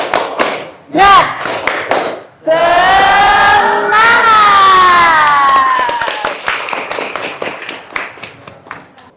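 An Indonesian school class does a teacher-led ice-breaking routine. Loud group voices chant a drawn-out call together, with bursts of rhythmic hand claps and thumps before and after the sustained chorus.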